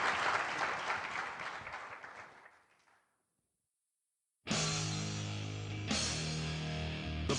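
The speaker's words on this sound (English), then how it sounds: "How about a nice round of applause for our panelists?" Audience applause for a panel at an options industry education conference, a steady wash of clapping that fades to silence, followed by a loud burst of music.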